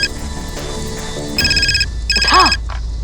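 A telephone rings in two bursts of bright electronic trilling, each lasting about half a second, with a short gap between them. A soft vocal sound and background music play underneath.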